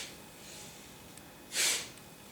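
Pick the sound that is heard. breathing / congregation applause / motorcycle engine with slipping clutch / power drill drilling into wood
breathing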